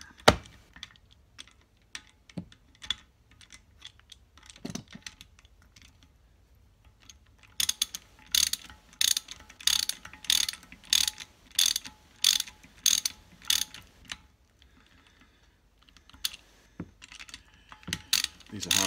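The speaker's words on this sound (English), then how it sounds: "Just ratchet this on to take up the slack initially," A ratchet tightens the crank and connecting rod bolts on a BSA A70L Lightning engine, a sequence of sharp, regular clicking bursts up close, preceded by a few scattered clicks and handling knocks.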